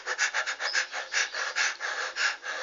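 A person demonstrates dyspnea with rapid, continuous panting breaths, about four quick airy huffs per second, close and steady with no talk.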